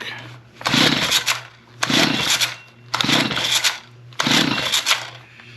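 A small engine on repair equipment runs rough with the choke applied, four loud sputtering bursts of about a second each separated by brief lulls, with a steady low hum underneath.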